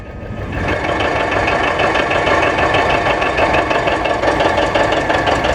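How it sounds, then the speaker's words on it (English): A 1959 John Deere 830 diesel tractor running steadily nearby, a loud continuous two-cylinder engine drone that holds level throughout without any voices. "Here's our first president, Don Morden, with his 830 John Deere diesel."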